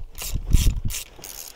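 A ratchet tightens bolts on an MGB gear shift, giving four quick bursts of close, rapid metallic clicking with short pauses between them.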